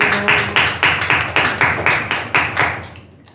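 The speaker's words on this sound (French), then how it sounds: "applaudissez pour vous" A church congregation at a French teaching service claps in slow, loud, even rhythm, about a dozen strong unison claps, one every quarter second or so, before fading out.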